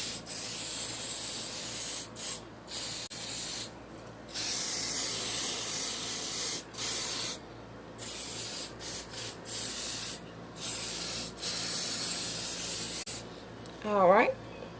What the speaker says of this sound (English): Yep, I'm about to spray my hair